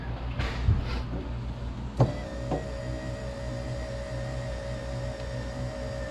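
An electric hatch motor assembly on a Trans Am runs with a steady whirring hum and a faint tonal whine, broken by a couple of brief clicks, close by with no talk.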